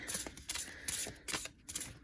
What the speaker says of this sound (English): so let's shuffle this and get 2 messages